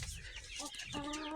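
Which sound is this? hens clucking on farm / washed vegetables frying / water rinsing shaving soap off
hens clucking on farm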